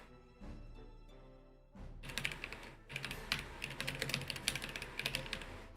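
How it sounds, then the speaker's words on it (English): Fast, loud typing on a computer keyboard close to the microphone, dense bursts of key clicks running nearly continuously after a quieter start, with no talk. "I realize that my typing's really loud"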